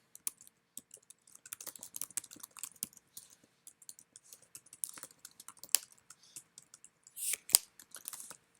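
Rapid, irregular typing on a computer keyboard while a program is written, with quiet key clicks in uneven bursts and a louder clatter near the end, close and alone.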